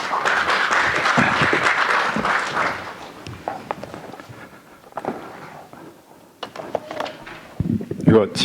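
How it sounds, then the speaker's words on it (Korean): A church congregation claps to welcome an elder coming forward to preach: a burst of crowd applause for about three seconds that quickly dies away, followed by footsteps, shuffling and light handling noises nearby. "나오실 때 큰 박수로 환영해 주시겠습니다."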